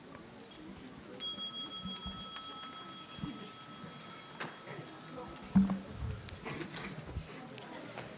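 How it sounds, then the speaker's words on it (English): A small bell rung to signal children to stand and bow at a Plum Village question-and-answer session, a single clear ringing tone that lingers and slowly fades, with faint room noise and shuffling around it. "invite the children to stand up with the small sound of the bell"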